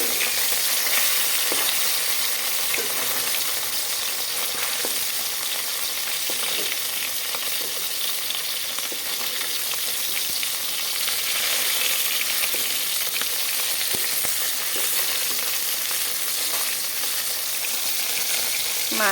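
Taki fish fry crisp in a pan, an even, loud sizzle sustained throughout with occasional stirring and scraping sounds, no talking.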